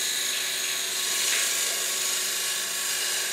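Woodturning gouge cutting into a wooden bowl spinning on a lathe, a steady hissing, scraping cut that swells briefly midway, close and continuous with no talking.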